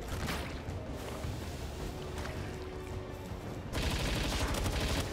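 Rifle fire in Palworld, rapid sharp shots in a steady stream over ambient game noise, growing louder and denser toward the end.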